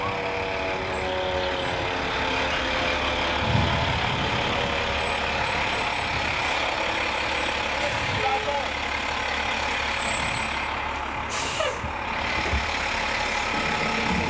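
A fire engine rolls up slowly and pulls past, its heavy diesel rumbling steadily at close range, with faint hisses and brief higher tones over the constant engine.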